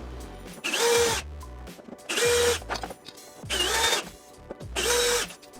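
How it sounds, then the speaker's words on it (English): Power drill backing screws out of a TV mounting bracket, four separate whirring bursts of about a second each with short pauses between, close and fairly quiet. "I'm using the drill to take the mounting bracket off"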